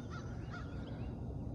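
Geese on a river sandbar honk twice, distant and faint, over a steady outdoor hush on a foggy morning in a river valley.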